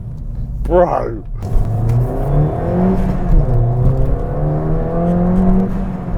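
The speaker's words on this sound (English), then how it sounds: "I want to see what the noise is like coming through the cabin now the sound deadening's gone" A Ford Fiesta ST fitted with an induction kit, heard from inside the cabin with the sound deadening stripped out, revs with a rising whirring engine note and a steady rumble, and a person speaks briefly at the start.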